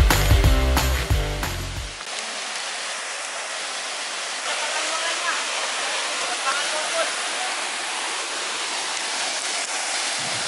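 Hydro Falls, a waterfall in Bauan, Batangas, gives a steady, broad rushing roar that fills the scene without pause, after a brief burst of music and voices at the start.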